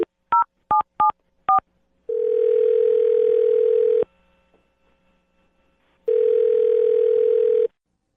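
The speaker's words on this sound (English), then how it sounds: "I'm going to dial her phone number right now." A quick run of touch-tone dial beeps dialing a phone number, then a steady telephone ringback tone sounding twice with a short silent gap between, close and clear.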